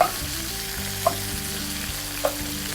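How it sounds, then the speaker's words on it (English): About a quarter stick of butter melting in a pan for a Southern pork and gravy dish, giving a steady close hiss and crackle with a few sharper pops, heard alone. "And we're gonna let that melt. We're just gonna let this melt."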